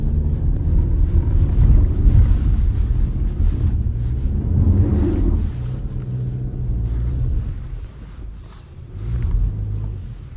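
A 2022 Mercedes C220d All Terrain diesel accelerating up rocky ground, its engine a close, heavy low rumble that swells and fades with wind buffeting the microphone.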